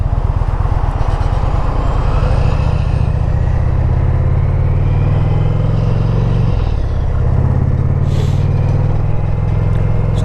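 A motorcycle rides along the road to work, a loud, steady engine drone close by with constant wind rush, its pitch shifting slightly partway through as the ride continues.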